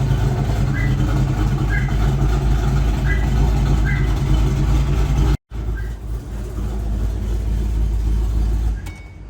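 A 700hp Ford GT500 V8 idling with a choppy cam, a loud, close, low rumbling lope with a steady uneven pulse and a brief dropout partway through.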